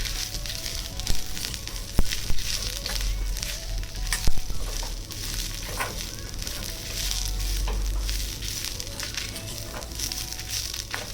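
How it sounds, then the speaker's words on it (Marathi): Garam masala spices and chopped ginger sizzle steadily in a hot pan, with occasional stirring scrapes and soft crackles over a continuous frying hiss. "बाकीचे आपले गरम मसाले पण त्यात घालते हे सगळे गरम मसाले पण त्याच्यात घातले आणि ते आता सगळे एकत्र छान परतून घेऊ"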